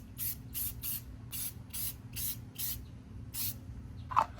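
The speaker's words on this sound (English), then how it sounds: "I'm spraying the outside circumference first," Coverall tire shine sprayed onto a tire's outer circumference in a series of short hissing bursts, about eight evenly spaced spritzes, close and clear over a low background hum.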